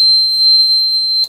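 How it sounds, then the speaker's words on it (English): A water flow meter alarm on a large RC tug boat emits a loud, steady, piercing electronic tone that holds for over a second and then cuts off abruptly. "This will send an alarm so I can stop the engine and save the boat."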